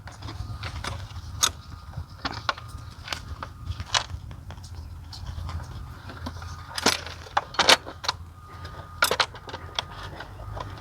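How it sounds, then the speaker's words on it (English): Metal clinks, taps and rattles of parts being handled while a new valve cover is fitted on a BMW N20 engine, scattered irregular knocks over a low steady background hum, fairly close. "Okay, so I can throw the new valve cover."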